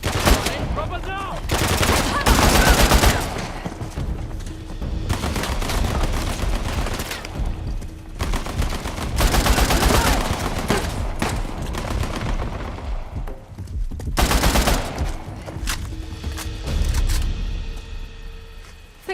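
Gunfire from Uncharted: The Lost Legacy: dense, loud bursts of automatic fire and single shots repeating through a firefight, with brief lulls between volleys and voices calling out over the shooting.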